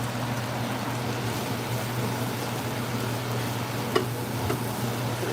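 Corn being stirred in a pan, a steady soft sizzle and scrape with a couple of brief knocks near the end.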